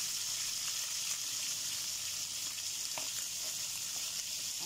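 Dried milkfish (daing na bangus) with its tail folded to fit the pan fries in hot oil, giving a steady, close hiss with faint pops throughout, no talking.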